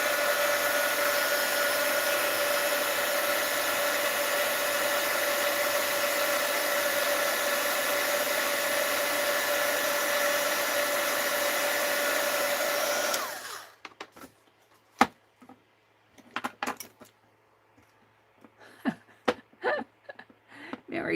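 A heat gun used on an art piece blows a loud, steady whooshing hiss with a fixed whine for about thirteen seconds, then cuts off, leaving scattered quiet clatter and handling noises.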